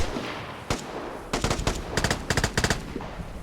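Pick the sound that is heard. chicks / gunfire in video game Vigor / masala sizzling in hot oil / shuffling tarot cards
gunfire in video game Vigor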